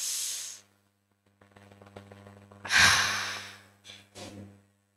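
Deep yogic breaths during a seated yoga breathing exercise: a strong airy inhale, then a long rushing breath in, followed by two shorter breathy bursts, close to the mic in a quiet room.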